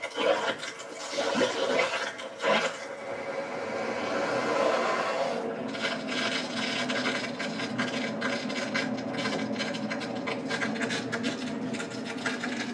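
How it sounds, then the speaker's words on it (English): Water rushes steadily into a heat pump water heater tank under full pressure, a continuous broadband hiss after a few brief knocks and gurgles at the start, with no talking. "now we've got full water pressure entering the tank"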